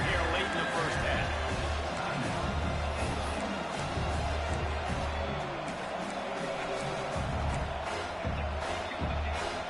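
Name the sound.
football stadium crowd noise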